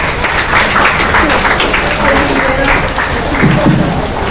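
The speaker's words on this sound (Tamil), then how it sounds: "அனைவரும் எழுந்து ஒரு கைத்தட்டல் ஐயாவுக்கு" An audience at a training class on Periyar's life stands and claps for a 69-year-old speaker, producing a loud, continuous wash of applause mixed with a voice talking over it.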